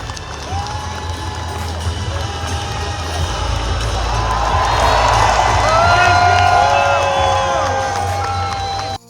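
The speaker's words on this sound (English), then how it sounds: "the crowd goes nuts" A crowd at a wrestling event in Phoenix, Arizona cheers and shouts wildly after the win, a dense roar with whoops that swells to a peak and stays loud before cutting off abruptly.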